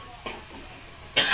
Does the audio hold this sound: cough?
yes